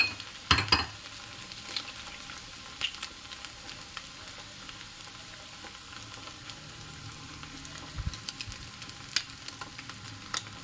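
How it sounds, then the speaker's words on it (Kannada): Eggs drop one at a time into onions already frying in a pan, giving a steady sizzle with a brief clatter near the start and a few crackles later. No one speaks. "ಈರುಳ್ಳಿ ಫ್ರೈ ಆಗಿರೋ ಈರುಳ್ಳಿಗೆ ಒಂದೊಂದೇ ಮೊಟ್ಟೆನ ಹಾಕ್ಕೊಳ್ತೀನಿ"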